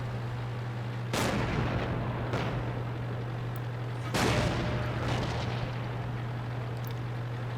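A tank cannon fires high-explosive shells in World of Tanks, with two loud, booming blasts a few seconds apart that each trail off over a steady low engine hum.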